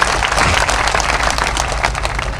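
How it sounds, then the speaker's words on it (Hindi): Applause from an event crowd in Surajgarh, Jhunjhunu, for three poets at a kavi sammelan, a dense, steady wash of many hands clapping at full loudness throughout with no pause. "एक बार जोरदार तालियां हमारे तीनों कवियों के लिए भी आपको"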